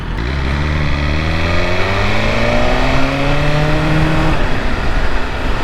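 2021 BMW S1000RR motorcycle launching hard, the engine revving up through rising gears in a loud, sustained scream heard close from the rider's position, with a brief shift dip near the end.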